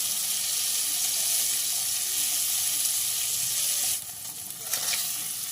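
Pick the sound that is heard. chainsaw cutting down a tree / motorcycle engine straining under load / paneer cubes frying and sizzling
paneer cubes frying and sizzling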